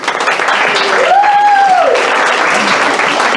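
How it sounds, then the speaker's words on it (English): Steady, loud applause from a church congregation honouring fathers and granddads at a Sunday service, with a brief rising and falling whistle-like tone over the clapping. "we should have a round of applause for our fathers in the room"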